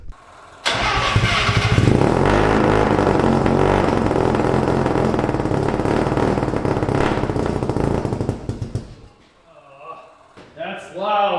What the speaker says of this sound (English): So here is the Cherry Bomb Salute muffler put in place of the old turbo muffler